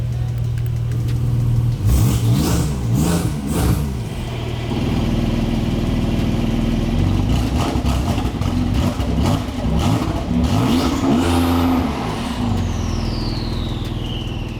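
A Porsche 992 Turbo S with a Capristo valved sport exhaust, cat replacement pipes and remote control, revved repeatedly from idle in sharp blips that rise and fall, with a steady idle rumble between bursts, close and loud.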